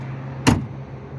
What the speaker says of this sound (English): this is the smoothest closing trunk I've ever seen.